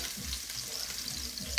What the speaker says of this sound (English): So I'm just gonna fry this up.